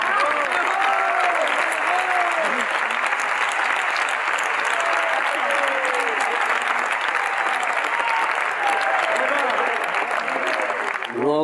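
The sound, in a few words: audience applause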